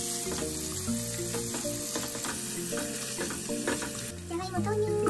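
Potatoes frying in a heated pan with soy milk, a continuous soft sizzle running under steady background music.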